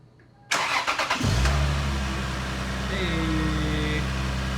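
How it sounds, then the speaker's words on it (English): A Toyota 2JZ VVTI engine, just rebuilt after a leaking VVTI gear, cranks with a rapid rhythmic whirr, catches, and settles into a loud steady idle close by. "let's go ahead and crank her on up"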